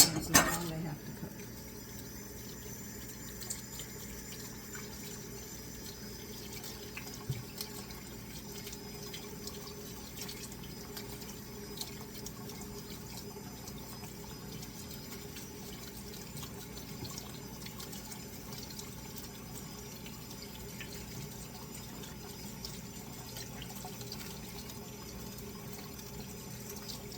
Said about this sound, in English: Let me rinse my hands and we'll get it in the oven.